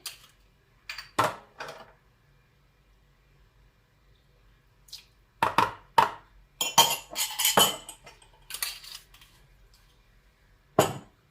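Brioche dough ingredients such as sugar, butter, salt, orange blossom water and egg being stirred in a bowl: scattered wet clicks and squelches come in short bursts, with quiet pauses between them, close up and without speech.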